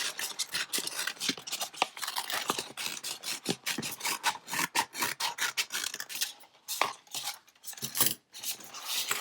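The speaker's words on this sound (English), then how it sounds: "I'm just going to trim all of the excess so we can save it" Scissors trim excess vinyl sheet by hand, a close, quiet stream of rapid snipping and rustling cuts with brief pauses near the end.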